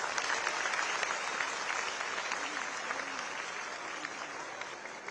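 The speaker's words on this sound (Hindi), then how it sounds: "अब मेरे ताली बजा दीजिए सभी" Students at a public event in Haridwar clap together in sustained applause, a dense, steady patter heard at a distance.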